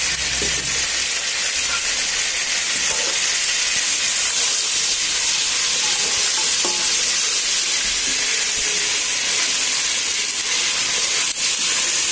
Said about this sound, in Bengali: আদা রসুন কষানো হয়ে গেছে।